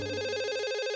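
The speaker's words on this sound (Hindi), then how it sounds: "ये सर का फोन होगा, मुझे परेशान क्यों कर रहा है?" A cartoon telephone rings with a bright electronic warble that repeats rapidly and evenly, loud and close, with no voices.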